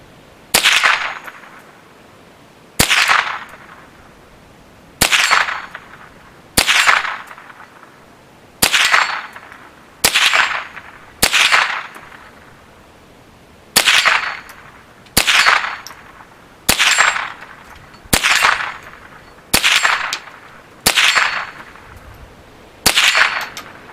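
Henry AR-7 survival rifle firing a short magazine of rounds: fourteen sharp, loud shots spaced irregularly a second or two apart, each cracking out and decaying quickly, with no voices.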